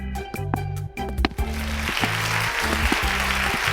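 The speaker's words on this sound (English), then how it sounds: "Audience applause erupts behind Laurie." Studio audience applause rising for a grinning game-show host walking to a podium on a television secrets show, a steady wash of clapping that swells under a low musical bed.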